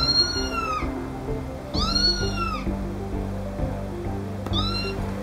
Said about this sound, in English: I go to YouTube and type in cat sound effects.